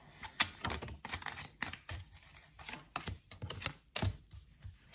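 Tarot cards drawn from a deck during a reading: a rapid series of crisp, close clicks and slaps of card stock, irregular and fairly soft, with no talking.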